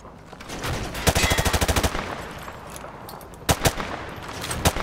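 Video-game gunfire in Modern Warfare 2 Remastered, firing through light cover: a rapid burst of about a dozen close, sharp shots, then a few scattered single cracks after a pause.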